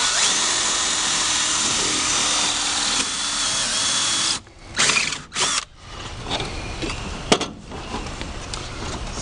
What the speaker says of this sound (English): then we're going to drill a hole.